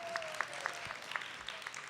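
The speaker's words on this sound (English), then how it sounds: "Let's give your principal a big round of applause." Elementary school children at Houston Elementary School give their principal a round of applause, a dense, even patter of many small hands throughout.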